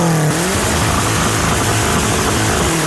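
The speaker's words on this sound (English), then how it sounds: "Let's just redline it a little bit and then park it." A Kia Spectra with an open exhaust is revved hard toward redline, a loud, raw engine roar close by that rises sharply and holds at high revs throughout.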